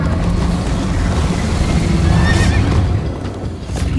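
A horse whinnies once in the middle of a noisy chase in Minecraft: Story Mode, over galloping hooves and a rushing wash of background sound.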